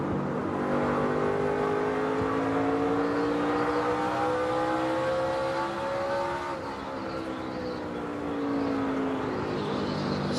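NASCAR race cars roar around the track, with engines whining at high revs in long sustained tones that rise and fall as the cars pass in close succession at a loud, steady level.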